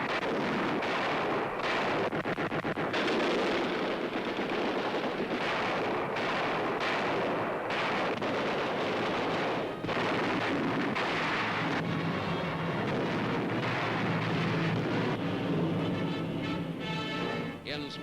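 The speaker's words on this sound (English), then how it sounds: "In the cathedral area, Allied guns open up on a German tank." Allied guns firing on a German tank near a cathedral in wartime Germany, WWII: repeated heavy booming blasts and rumbling gunfire, loud and sustained, with a narrator's voice over parts of it.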